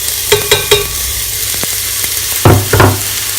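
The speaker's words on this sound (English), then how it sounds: "And next I'm gonna add, I have about 1 medium carrot that I have chopped" Chopped carrot tipped into a frying pan for white bean soup and stirred, loud utensil knocks and scrapes in short bursts over a continuous background sizzle.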